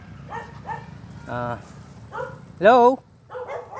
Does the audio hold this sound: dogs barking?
yes